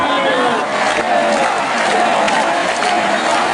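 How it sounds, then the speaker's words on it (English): Crowd loudly chanting and shouting in unison at a man who won't stand up, a dense roar of many voices filling a large space, steady and close, with talk over it. "They're all chanting stand up."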